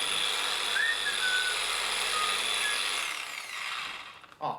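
A high-gloss guitar finish is rubbed down by hand with steady back-and-forth abrasive strokes, a continuous close, bright scratchy hiss with no talk, easing off near the end before a brief knock.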